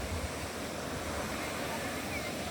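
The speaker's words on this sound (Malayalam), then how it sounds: "ഇതാ പുഴ ഇങ്ങനെ താഴോട്ടൊഴുകയാണ്." Chulukkapuzha river at Kanthampara waterfall in Wayanad, a steady broadband rush of flowing water that stays even and continuous throughout, with a low rumble underneath and no voices.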